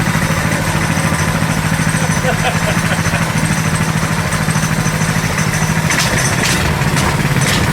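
A modified KT196 go kart engine idles while warming up, a loud, steady, throbbing small-engine rumble held close throughout, with some clattering noise near the end.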